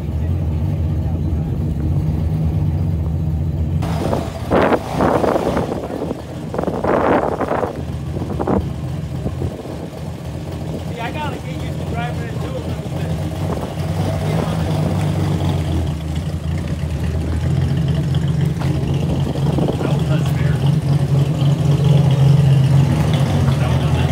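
A 1939 BMW 328 engine runs steadily with a low rumble throughout, rising in a few sharp revs early on, recorded close up.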